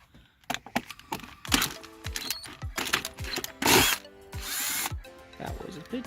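A power drill spins off the valve cover nuts on a BMW E46 in short, sharp bursts with clicks and knocks of metal between them, close by.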